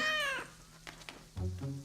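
A cartoon kitten gives a high, drawn-out meow, then two soft short sounds, and then a lower second meow, all clear and close and quiet.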